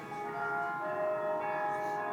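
Church bells ringing in a sustained, faint tone, steady sustained pitches with no clear individual strikes over a short stretch.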